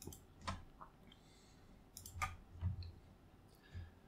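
Computer mouse clicks, several sharp isolated taps spaced irregularly at moderate volume, with no talking.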